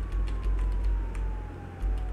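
A continuous siren from the Contraband Police game, one gliding tone sliding gradually lower, held over a loud, throbbing vehicle engine drone with intermittent clicks and no voices.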